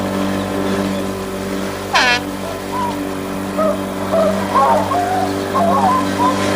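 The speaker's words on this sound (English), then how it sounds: "Give us some more throttle, will you?" Car engine picking up speed as the throttle is opened, a steady droning hum with stacked harmonics that swells slightly, with brief rising whistle-like sweeps and faint voices over it.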